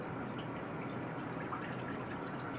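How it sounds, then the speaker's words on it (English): About two cups of water pour into a cooking pot while a pork roast meal is being made, giving a steady, even rush of liquid that stays constant throughout with no voices over it. "I'm going to put some water."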